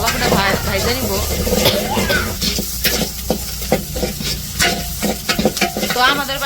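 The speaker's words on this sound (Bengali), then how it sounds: "পেঁয়াজ আর রসুনটা ভালো করে ভাইজা নিব।" Onion and garlic frying in a pan in a village kitchen give a steady, close sizzle, broken by stirring scrapes and clatters, while a voice talks over it.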